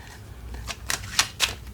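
A tarot card deck being shuffled, a few quick crisp riffling bursts over a soft background hum, close and fairly quiet.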